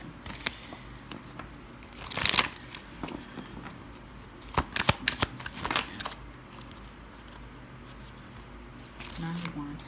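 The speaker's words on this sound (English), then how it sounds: "Let me shuffle this again." Tarot cards being shuffled in a few brisk riffling bursts, close and moderately loud, separated by quieter handling noises and soft taps.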